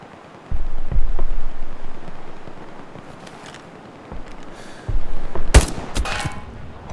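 Gunfire in the World War II shooter Hell Let Loose: a few loud, separated shots, one sharper crack near the end, over a quiet outdoor background.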